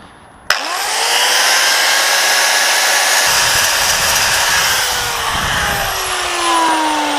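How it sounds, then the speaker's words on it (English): An angle grinder cuts through a rivet on a Yamaha TRX850 motorcycle chain, a loud, steady high-pitched whine and grinding screech that starts abruptly and runs continuously, close up, with no talk. "Well, fortunately I have a rivet remover, but in this case I'll use a fucking grinder."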